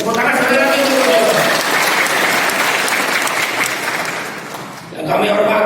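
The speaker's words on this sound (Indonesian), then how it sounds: "Tepuk tangan sekali lagi untuk beliau." Applause from a crowd at an evening police anniversary gathering in Cimahi, West Java, a loud sustained wash of clapping that dips briefly near the end before swelling again, with a voice over the start.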